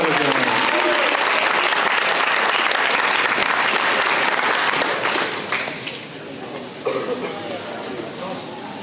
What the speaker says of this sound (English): one more round of applause for Ethan Wellman heading to Milligan